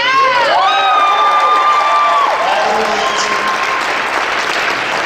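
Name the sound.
audience applause for athletes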